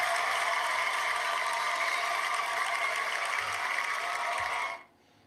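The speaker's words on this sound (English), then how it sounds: "Let's give Fran a cheer, guys." Steady dense applause and cheering from a crowd for a live-stream viewer, a continuous wash of clapping held at even loudness for several seconds before cutting off abruptly near the end.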